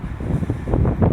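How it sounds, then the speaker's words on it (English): Wind gusts buffet a microphone outdoors beside a Lotus Evora sports car, a loud rumbling low roar that swells and pulses unevenly throughout, with no other sound standing out. "there's a little bit of wind here, so you're probably gonna hear a lot of gust."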